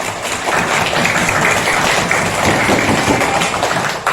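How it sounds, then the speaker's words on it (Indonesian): Applause from a classroom audience during an academic supervision coaching session, a dense steady wash of many hands clapping at once for about four seconds, loud and close, with no talking over it. "Tepuk tangan untuk kita semua ya."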